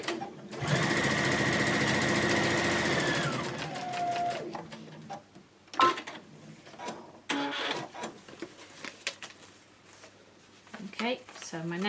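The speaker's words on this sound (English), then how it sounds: "because we're going to sew and then flip it." A sewing machine runs in a steady, loud burst of stitching while foundation piecing fabric, then stops; afterwards come softer handling clicks and rustles, with a voice talking.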